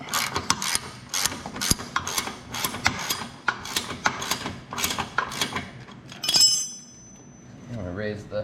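Ratchet wrench with 3/4 inch and 9/16 sockets turning bolts on a Cub Cadet XT1 mower deck, a close fast series of clicking pawl strokes in bursts, ending with a brief metallic clink.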